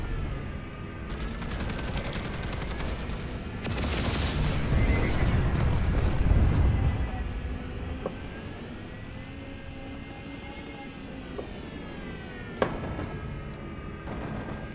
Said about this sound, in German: Woher kam der Schuss?